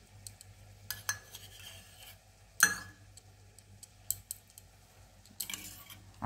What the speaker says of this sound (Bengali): আর একটু আমি এতে ঘি ছিটিয়ে দিচ্ছি।